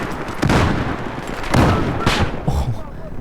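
Battlefield 4 multiplayer combat with loud, close bursts of gunfire and booming explosions, several heavy blasts landing in quick succession.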